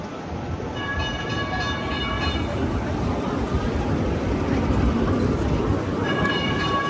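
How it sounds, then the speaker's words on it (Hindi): A small toy-train-like tram runs by on a street in Istanbul, Turkey, near the Taksim tunnel, a steady rumbling roll with faint high tonal squeals under a busy, continuous city din. "टॉय ट्रेन जैसी कोई ट्रेन चलती है"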